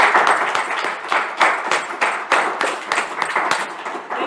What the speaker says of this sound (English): Let's give a round of Yes. applause for our beautiful Tella.